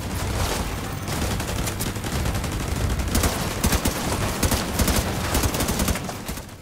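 Sustained gunfire rattles through a firefight in The Division 2 as rapid machine-gun bursts and overlapping shots blend into a loud, continuous fusillade for several seconds.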